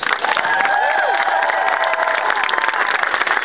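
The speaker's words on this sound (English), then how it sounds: "let's welcome her with a big round of applause" Dense crowd applause mixed with cheering and whoops at an outdoor political rally in Washington D.C., loud and continuous throughout, with a few voices rising above the clapping.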